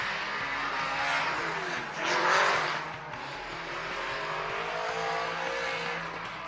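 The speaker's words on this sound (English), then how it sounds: "Here comes Ryan Turk, Mobile 1 Red Bull Pontiac Solstice" An LS7-powered Pontiac Solstice drift car roars around the Long Beach Formula Drift course during 2011 qualifying, its engine a continuous loud, distant rasp that swells briefly near the middle before settling to a steady drone.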